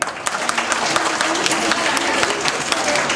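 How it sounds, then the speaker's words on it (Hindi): A crowd in a senior citizen recreation room claps for children in a steady, dense burst of applause that carries on throughout, fairly loud and close. "बच्चों के लिए एक दफा और तालियां हो जाए।"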